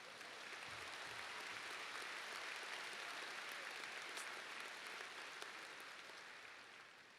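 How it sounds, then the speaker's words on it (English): Audience applause at a 2019 Lindbergh High School graduation ceremony, a steady wash of many hands clapping that holds for several seconds at a moderate, distant level before tapering slightly. "Yeah, that deserves a round of applause."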